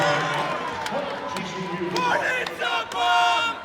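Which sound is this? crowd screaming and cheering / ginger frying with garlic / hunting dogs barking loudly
crowd screaming and cheering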